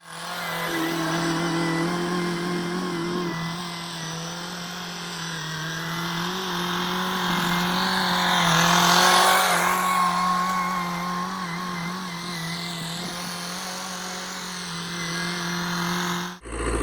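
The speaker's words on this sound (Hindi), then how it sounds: "यह है जी रूसी ट्रैक्टर की पावर।" A heavy Russian tractor engine drones steadily and loudly throughout while ploughing a field, its pitch holding almost constant, swelling slightly midway as it works under load.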